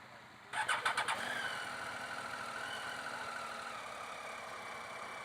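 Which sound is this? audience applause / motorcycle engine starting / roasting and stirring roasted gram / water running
motorcycle engine starting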